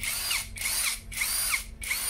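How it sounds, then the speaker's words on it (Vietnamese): Cordless Toyoko power drill whirring in four short, even bursts with brief pauses between, close and fairly loud, no voices. "Con này khoan khỏe, bắn dít cũng khỏe ha."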